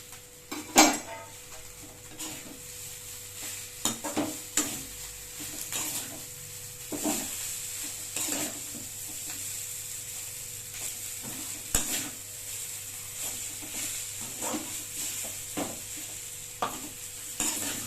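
Chicken noodles stirred in a hot pan, with repeated scraping and clinking of a utensil against metal over a soft, steady sizzle, close up and without talking.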